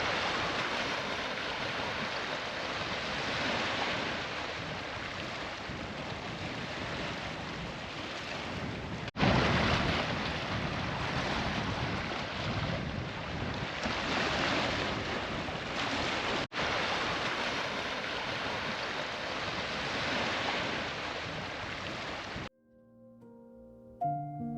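Waves wash continuously against a rocky cliff-top shoreline on the Eyre Peninsula, a broad steady roar with wind buffeting the microphone, cut off near the end by a brief faint tonal sound.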